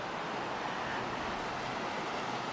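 Running river water along a mountain hiking trail makes a steady, dense rushing wash, close and even throughout with no voices.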